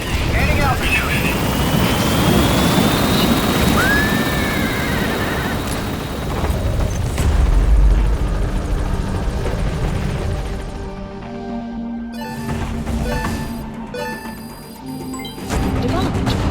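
The Pequod helicopter in Metal Gear Solid 5 comes in to land, a loud, continuous rotor roar that fills the scene with radio voices and game effects layered over it.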